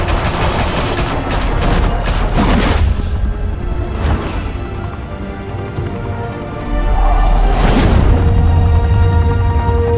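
Gunfire in the Batman Season 1 video game sounds as loud bursts of rapid shots near the start, then an echoing lull before another heavy volley near the end.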